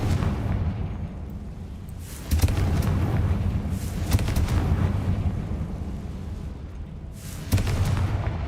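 Repeated Confringo spell explosions in Hogwarts Legacy, three heavy booming blasts with rumbling tails over a dense low background, no talk.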